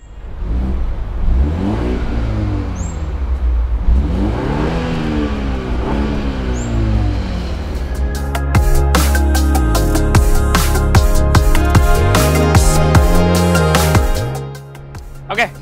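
A 2021 BMW 520i LCI M Sport with real exhaust outlets, its engine revving up and down in repeated rising and falling sweeps, then settling into a loud, steady drone with sharp mechanical clicks, heard close and alone.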